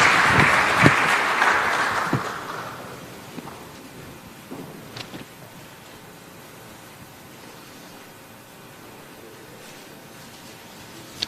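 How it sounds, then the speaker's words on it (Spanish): Warm audience applause at a Ministry of Tourism themed session on new narratives in tourism, a dense burst of clapping that swells briefly, then fades over several seconds into scattered claps and a quiet room. "gracias por felicitarlo con un buen cálido aplauso"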